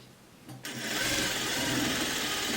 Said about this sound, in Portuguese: Eu vou passar aqui a costura reta, mas depois eu vou passar o overlock.